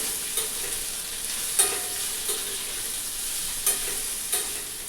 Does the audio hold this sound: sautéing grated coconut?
yes